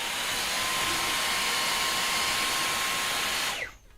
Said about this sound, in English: Why is it that nowadays we can't do any live streams without a vacuum?